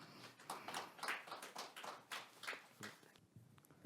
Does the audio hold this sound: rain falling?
no